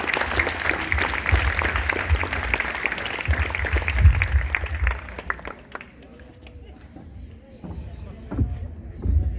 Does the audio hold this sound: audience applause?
yes